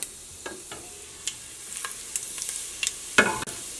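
Fennel seeds crackle in hot coconut oil in a pan at the start of a Kerala-style chicken curry, a quiet hiss broken by scattered sharp pops and a louder burst of sizzling near the end.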